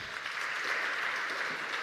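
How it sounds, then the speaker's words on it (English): Sustained applause from a town hall audience for the panelists at a national budget forum, steady dense clapping filling the room for the whole stretch. "Better hand clap to them."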